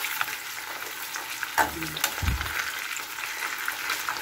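Pork chop frying in oil in a pan, a continuous crackling sizzle with a few louder pops and a clunk of utensil or pan movement partway through.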